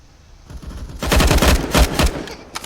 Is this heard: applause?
no